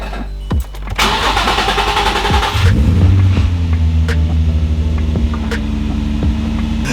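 Nissan 350Z cranking briefly with a whirring starter after a new AEM 340LPH fuel pump install, then the engine catches and settles into a loud, steady idle close by.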